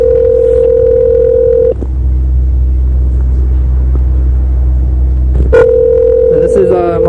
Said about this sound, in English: So they're not answering the phone yet.